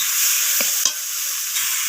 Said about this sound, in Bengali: তো বেগুনগুলোকে আমি আবারও সব কিছুর সাথে কষিয়ে নিচ্ছি।